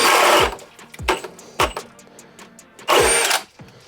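Milwaukee Gen 4 hammer drill spinning a 2 9/16 switchblade bit through a pressure-treated 2x8, heard as a few loud bursts of whirring boring, roughly two long and two short, separated by quiet pauses as the bit stalls.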